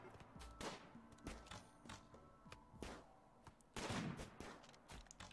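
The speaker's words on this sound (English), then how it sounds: "Someone with a sniper rifle," Repeated sniper rifle gunfire in the video game RimWorld (Alpha 16), several sharp reports spaced irregularly through the clip, with a louder, heavier burst of shots near the end and no talking.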